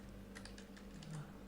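Rapid typing on a computer keyboard, a steady run of light clicky keystrokes close up over a low background hum, with no talking.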